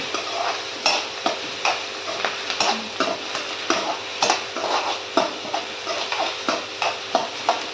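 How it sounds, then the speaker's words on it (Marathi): Onion being sautéed in a pan for a potato and cauliflower dish, with a steady soft sizzle under rhythmic scraping strokes of a spoon against the pan, close and clear. "कांदा छान परतून घ्यायचा आपल्याला."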